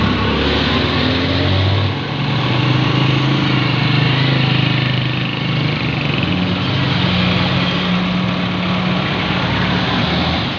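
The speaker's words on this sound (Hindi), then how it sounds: "अपनी साइड पे ट्रैक्टर जा रहा है।" YTO Agri master 4x4 tractor driving on a main road, its engine giving a steady, continuous drone with a low rumble throughout, close and loud with no talk.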